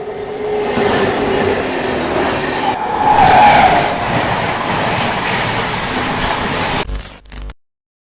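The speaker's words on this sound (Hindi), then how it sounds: "हावड़ा राजधानी आ रही है, उसकी क्रॉसिंग दिखा" A Howrah Rajdhani Express rumbles loudly past a railway crossing, its wheels clattering and squealing steadily for about seven seconds before the sound cuts off abruptly. No one speaks.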